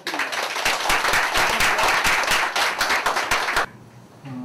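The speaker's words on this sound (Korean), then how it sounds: "다시 한번 두 분께 격려의 박수를 부탁드립니다." Party members at a provincial party convention break into loud, sustained applause with dense, fast clapping that fills nearly four seconds, then cuts off abruptly into a quiet hall with a faint hum.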